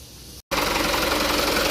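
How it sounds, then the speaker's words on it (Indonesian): Mitsubishi Canter truck diesel engine catching after a brief silent gap, then idling with a steady knocking rumble, close and fairly loud. "Terus kita nyalakan mesinnya."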